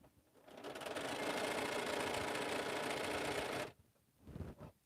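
A sewing machine runs fast and steady over thick quilt seams, a loud close mechanical rattle for about three and a half seconds, stopping abruptly before a short final burst of stitching.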